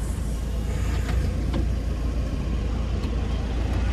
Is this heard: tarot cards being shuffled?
no